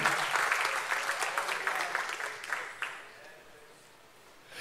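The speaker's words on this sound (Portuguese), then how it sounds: "Alguém pode aplaudir ao Senhor esta" A church congregation at a Portuguese-language evening service bursts into dense, close applause that holds strong for a few seconds, then thins out and fades.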